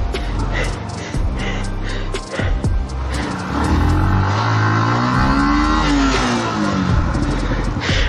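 A Royal Enfield Bullet 350 motorcycle revs hard while stuck on an off-road trail, its engine rising and falling in loud surging pulls, close and continuous under excited voices and gasps.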